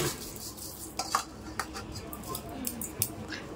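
Washed, drained Gobindobhog rice being mixed by hand in a bowl, giving soft, quiet stirring scrapes and occasional light knocks against the bowl, close by and low in level.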